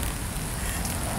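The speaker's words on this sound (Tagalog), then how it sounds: "dahil panay ang ulan" Steady rain falls during a flood, a dense, even hiss of drops striking surfaces that stays constant throughout with no break.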